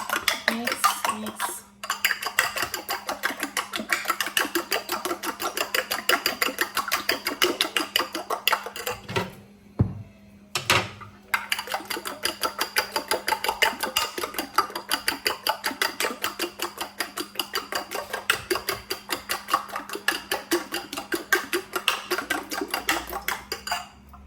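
A spoon stirs Betty Crocker cake mix batter in a bowl with steady rapid clinking and scraping strokes, close and continuous, pausing briefly twice.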